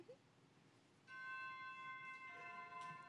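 Coronation bells ring out in a Frozen stage show aboard a Disney cruise ship, entering after a quiet moment as a sustained, resonant chime that holds and layers for a couple of seconds at moderate volume.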